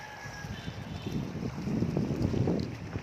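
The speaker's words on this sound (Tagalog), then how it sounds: "Medyo mahangin-hangin." Gusty wind buffeting the microphone at Sua Beach, a low rumbling roar that builds in the second half, with faint choppy sea sounds behind it.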